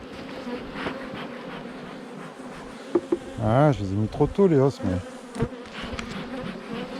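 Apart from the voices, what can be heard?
bees swarming out of hive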